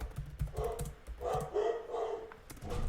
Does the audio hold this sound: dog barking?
yes